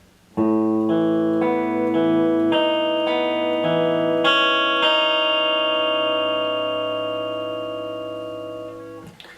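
Electric guitar with effects plays a song's riff, a few stepped chord changes leading into a long ringing chord that fades slowly, heard alone and clear.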